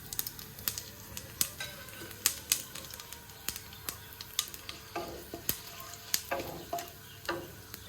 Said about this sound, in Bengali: এবার ফোড়নের জন্য দিয়ে দিচ্ছি অল্প একটু পাঁচফোড়ন,